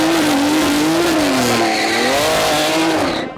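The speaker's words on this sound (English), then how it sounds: "I'm drifting on the track." A car drifting on a raceway in the Midnight Club video game, its tires squealing loud and continuous with a wavering pitch over engine roar for several seconds before fading at the end.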